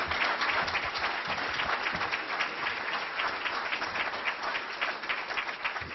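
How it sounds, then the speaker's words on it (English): Sustained applause from an audience at a Nebraska Republican U.S. Senate primary debate as the candidates enter the room, a steady, dense wash of clapping that stays loud and even throughout with no voices standing out. "But we will applaud as the gentlemen come into the room."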